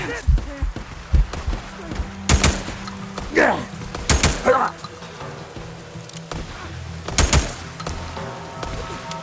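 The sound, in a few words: sniper gunfire, video game Days Gone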